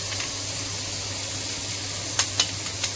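Brinjal frying in a pan with tomato as turmeric and masala go in, a steady hiss of sizzling oil with a few light clinks of a spoon near the end.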